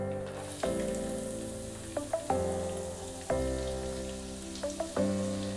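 Chopped garlic and ginger sizzle in hot oil with cumin seeds and crisped chilies for a dhaba-style egg masala, giving a steady close frying hiss broken by a few sharp crackles and pops as ingredients hit the pan.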